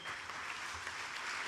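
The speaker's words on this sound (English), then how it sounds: "Thank you for the warm round of applause." A warm round of applause from the audience at a hospital anniversary celebration in Fiji, a dense, steady wash of clapping heard alone at a fairly soft level.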